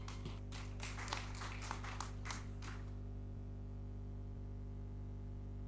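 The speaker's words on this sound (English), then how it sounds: "Resounding round of applause for the moderator and the panelists." Brief applause from a workshop audience for a moderator and panelists, a cluster of claps over the first few seconds then fading into steady electrical hum and low static, faint and thin.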